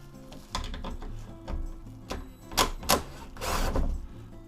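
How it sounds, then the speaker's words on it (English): Bolts being undone on the boot lid of a Lotus Elan M, close irregular metallic ticks, clicks and short ratcheting bursts of a hand tool, moderately loud with no talking. "And now all you have to do is just remove the bolts."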